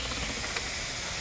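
Onion sautés in a non-stick pan with a soft, even hiss that holds steady for a moment at close range, with no voices over it.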